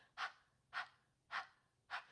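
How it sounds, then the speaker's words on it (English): Four evenly spaced panting breaths taken through an open mouth with the tongue kept inside, each a short airy burst about half a second apart, close and quiet with no talking. "a panting breath with the tongue inside the mouth"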